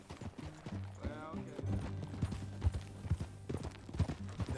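Horse hooves clip-clop in a steady, rhythmic trot in Red Dead Redemption 2, close and clear, with a brief whinny near the start and characters talking over the hoofbeats.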